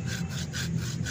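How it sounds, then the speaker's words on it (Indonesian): A hand saw cuts through a guava branch in quick, even back-and-forth strokes, about four rasping passes each second, close and alone with no talking. "saya lakukan penggergajian secara bertahap"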